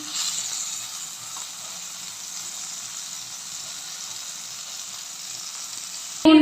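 Eggplant fries in a pan with a steady, faint hiss of oil running evenly throughout, ending in a brief louder knock.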